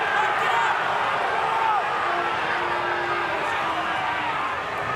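Loud stadium crowd roaring at a rugby league match between the Dolphins and Canberra Raiders at Redcliffe, a constant dense wall of noise with faint whistles and voices rising through it.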